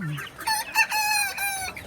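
Desi chickens cluck in a rooftop cage, a run of bright, close calls with a longer drawn-out note in the middle, heard alone without talk.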